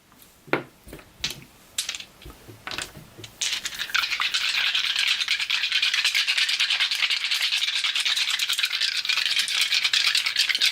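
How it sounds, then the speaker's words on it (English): Dice tumble in a tabletop game of Twilight Inscription: a few sharp clacks, then a long, dense rattle, close and with no voices. "Rolling dice once again."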